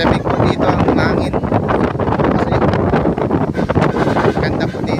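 Cold mountain wind buffeting the microphone in Baler, a loud continuous roar with rough gusty rumbles and no pauses.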